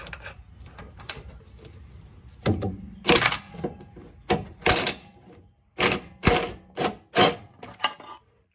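Metal clanks and ratcheting clicks come from a wrench loosening bolts on a car's differential cover after drag racing on stock axles: sharp, close, irregular bursts separated by brief pauses in a quiet garage.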